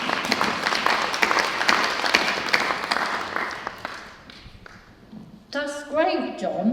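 Conference audience applause, a dense wash of clapping for about four seconds that thins and fades, followed by a voice speaking near the end.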